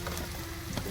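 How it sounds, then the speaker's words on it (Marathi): Garlic paste sizzling as it hits a hot pan, a steady close frying hiss with faint scraping ticks throughout. "लसणाचा पेस्ट टाकूया."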